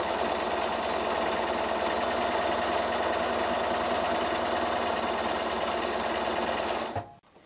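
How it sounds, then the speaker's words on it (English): A sewing machine with a walking foot stitches straight parallel quilting lines in a loud, steady mechanical hum with fast, even needle chatter close by, then stops abruptly near the end. No one talks. "And then I just sew, and I just keep an eye on this line of sewing going under this guide here"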